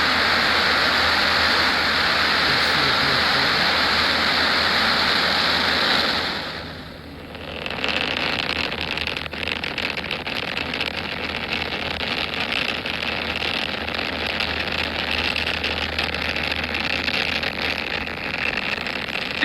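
Falcon 9 rocket launching on a SpaceX Starlink mission, a loud broadband roar that dips briefly and then returns as a sustained rumbling, crackling thunder heard from a distance, with no talking.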